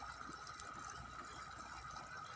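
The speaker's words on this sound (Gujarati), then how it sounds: "જોકે પાણી તો એક સરખું જ જાય છે." Irrigation water runs steadily through a chickpea field on a village farm, a faint, even continuous flow with no talk and no other distinct sounds.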